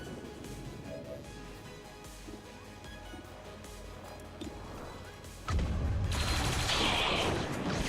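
Automated turrets in the XCOM 2 War of the Chosen battle open fire, a few scattered shots and impacts at first, then a sudden loud sustained burst of gunfire and explosions.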